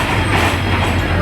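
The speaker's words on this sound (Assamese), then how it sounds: "আমাৰ ট্ৰেইন আহি গ'ল ফাইনেলি বহুত বেছি আৱাজ হৈ আছে" Train pulling into a station, a loud continuous rumble with low steady drone and rolling wheel noise close by, dense and unbroken.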